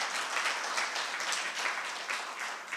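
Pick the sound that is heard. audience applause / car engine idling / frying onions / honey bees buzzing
audience applause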